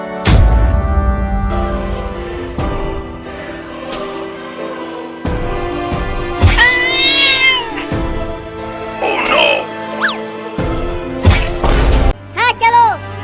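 A cat meows several times in short, high, wavering cries amid loud thumps and background music, with voices talking around it in a comedic Hindi sketch.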